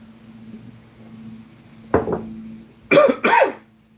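A faint clatter and then two sharp, close coughs in quick succession over a low steady hum.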